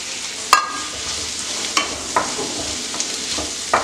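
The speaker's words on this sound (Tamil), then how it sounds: "வெங்காயம் நல்லா வதங்கட்டும்" Steady soft sizzle of onions sautéing in a pan, with a few sharp clicks and scrapes of stirring scattered throughout; no talking.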